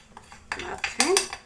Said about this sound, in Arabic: غادي نخلط دابا سكر كلاصي